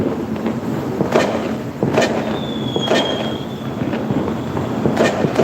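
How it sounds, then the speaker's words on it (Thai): Fireworks pop and crack at intervals in the distance, with a faint whistling streak rising amid the booms. "ได้ยินแต่เสียงพลุนะครับ"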